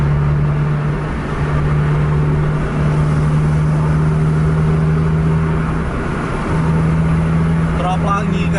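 A steady engine drone with a constant low hum from buses on a highway, heard from inside a moving vehicle as a double-decker bus follows behind, with a voice speaking over the road noise throughout.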